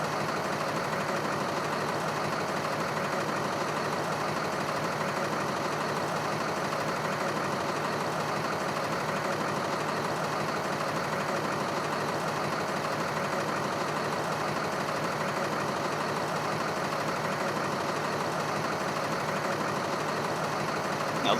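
A diesel school bus engine runs loud and steady, holding a constant, even rumble throughout with no voices over it.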